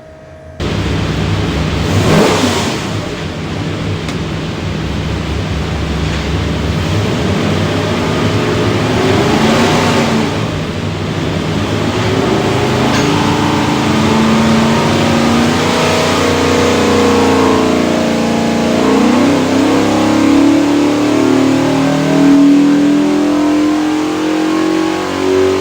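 A 427ci small block Ford V8 with a front sump oil pan and pulley kit runs on a dyno, roaring loudly from idle and revving up through a long rising pull.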